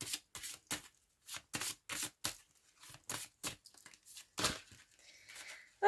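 Tarot cards are shuffled and drawn by hand, producing quick, close, papery riffles and flicks in a rapid uneven series of short bursts, separated by brief silences.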